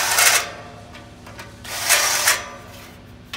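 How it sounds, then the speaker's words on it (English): A small handheld drill with a countersink bit deburrs drilled holes in a window frame during a school bus conversion, giving two short rasping whirs close by. "Countersink to deburr the holes."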